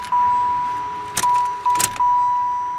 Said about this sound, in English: I'm going to cycle the key on and off a few times to pump fuel back in the system